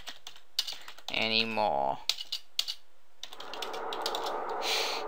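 Quick bursts of computer keyboard typing to write a sign in Minecraft, clustered clicks close to the microphone, with a spoken voice briefly heard and game sounds between.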